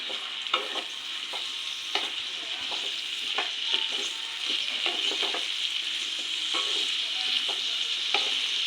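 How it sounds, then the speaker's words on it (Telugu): Chopped onions fry in a kadai, with a steady close sizzle throughout and frequent sharp scrapes and taps of a spatula stirring them. "బాండి పెట్టుకుని అవి బాగా ఫ్రై అవ్వాలి"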